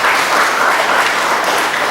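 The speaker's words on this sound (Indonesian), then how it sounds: "Tepuk tangan untuk kita semua." Audience applause at the opening of a village government technical training session in Sidoharjo district, Indonesia, a dense, steady clatter of many hands filling the room for about two seconds with no talk.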